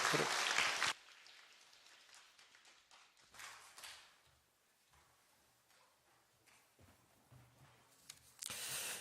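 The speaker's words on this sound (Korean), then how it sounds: "다시 한번 격려의 박수 드리시기 바랍니다" At a church service, a burst of applause from the congregation fades quickly, followed by quiet room noise with scattered claps and a brief swell of clapping at the end.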